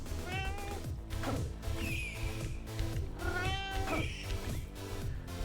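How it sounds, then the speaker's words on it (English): A pet cat meows loudly and insistently at a desk, two long drawn-out cries over the driving rhythmic music of the game Crypt of the NecroDancer. "having my cat screaming at me is throwing off my rhythm"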